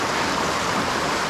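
Calamity Brook in the Adirondack High Peaks, running high after recent rain, rushes in a dense, steady broadband roar, loud and close, with no voices over it.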